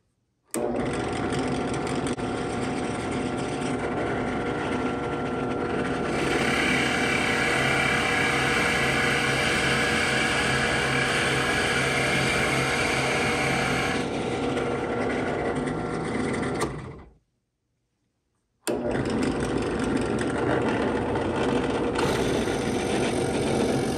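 An electric drill with a 15/64 bit bores into a deer antler, a steady continuous motor whine with a pitch shift partway through, a brief stop, then a restart, close and loud without talk.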